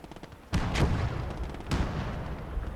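In the Gates of Hell war game, a 17cm K18 Mörser heavy artillery piece fires two loud, booming shots about a second apart, each with a rolling rumble trailing off, heard close and clear with little else around.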